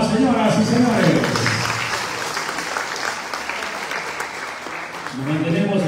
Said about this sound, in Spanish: ¡Fuerte las palmas, señoras y señores!